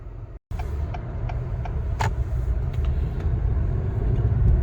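A 2022 Acura TLX Type S AWD pulls away, its steady low engine and road rumble filling the cabin, with a few faint clicks and a short dropout at the start.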